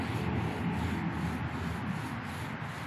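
Wooden bow drill spindle grinding in a notched fireboard as smoke starts, a continuous dry rubbing hiss with faint rhythmic strokes, close and quiet, no voices.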